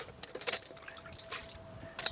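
Faint, scattered drips and splashes of water shaken off bread just dipped in water, falling in quick irregular bursts, quiet and close by.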